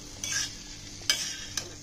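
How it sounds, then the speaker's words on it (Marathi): A short burst of sizzling as tempering hits a pan of mashed potato bharta, with brief stirring scrapes and a couple of hissing flare-ups, close by. "फोडणी घातल्यानंतर फक्त 2-3 सेकंड त्याच्यामध्ये परतून घ्यायचे"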